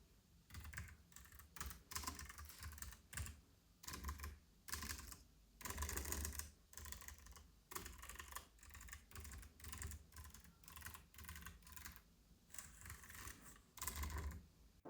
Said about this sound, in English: here's a sample of me typing with it.